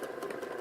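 A sewing machine runs steadily while stitching fold-over elastic on 18-inch doll underwear, giving a brief, fast, even mechanical whir at moderate volume with no voice.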